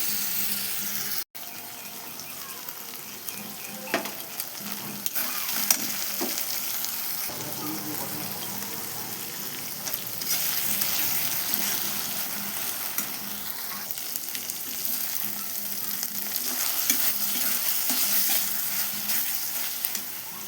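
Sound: frying mutton masala with chili paste until oil separates

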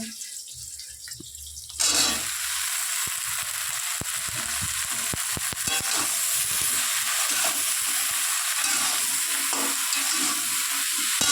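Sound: okra and potato curry frying in a wok

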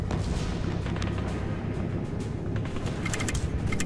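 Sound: gunfire in the video game GUNS UP

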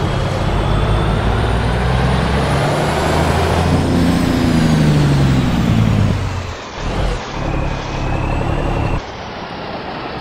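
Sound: truck Jake brake in a video game

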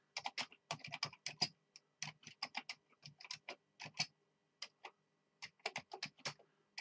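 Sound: typing on a Commodore 64 keyboard

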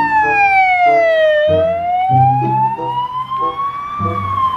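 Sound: toy ambulance siren

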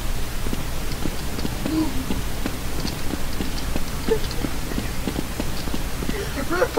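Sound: footsteps in Counter-Strike Nexon: Zombies video game

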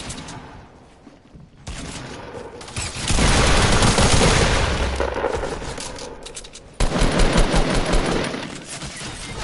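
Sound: gunfire in a video game

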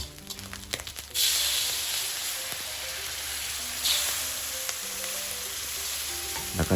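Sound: curry paste sizzling as it is stir-fried in oil

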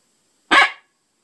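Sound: coyote bark imitated on a predator call

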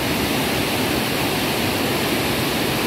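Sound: water roaring down the Zabumbão dam spillway

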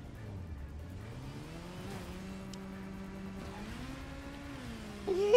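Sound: motorcycle doing a wheelie in the video game Gotham Knights

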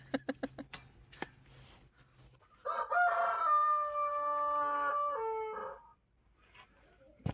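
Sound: roosters crowing

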